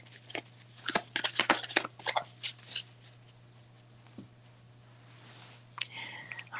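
Tarot cards are shuffled quickly close by, a burst of crisp riffling slaps and snaps in the first few seconds, then a quiet pause and a few more soft card flicks near the end.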